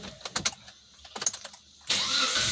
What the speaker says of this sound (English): So the vehicle starts back really well.